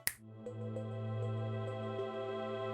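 A soft, sustained synth pad remix from the video game Donkey Kong Country 2, steady mellow chords with light plucked notes entering after a brief click, played quietly alone.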